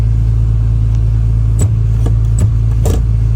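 A Nissan R33 Skyline engine runs at a steady, loud, low idle, with a few brief clicks and knocks over the continuous drone.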